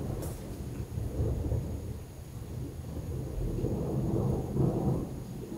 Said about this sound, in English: That is definitely big thunder.